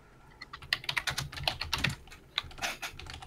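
Fast typing on a computer keyboard, close and crisp, with irregular bursts of clicking keystrokes and brief pauses between runs.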